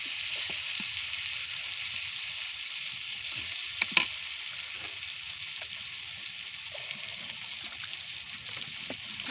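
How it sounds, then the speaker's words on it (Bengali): Onions and chilies sizzle in hot oil, a continuous bright frying hiss with small pops and one sharper crackle partway through, heard up close with no talk. "এই যে এখানে পেঁয়াজ মরিচ দিয়ে দিলাম, এখন আমি তেলটা ঢেলে দিব।"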